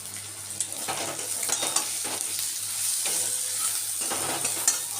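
Steady hissing sizzle of prawns frying in hot oil, with occasional stirring scrapes in the pan, close up and continuous with no talking.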